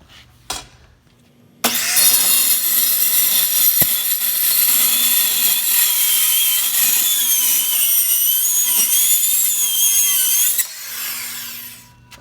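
A fireproof gun safe damaged in a house fire is cut open with a power saw, a loud, steady high-pitched grinding whine running for about nine seconds before cutting off, with brief knocks before and after.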